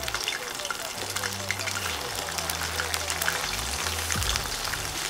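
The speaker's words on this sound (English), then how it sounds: "I pour in the tuna and aloe vera mix and I allow these just to cook a bit" A tuna and aloe vera mix sizzles steadily in a pan, a dense crackling hiss that stays even throughout, with a low hum running beneath it.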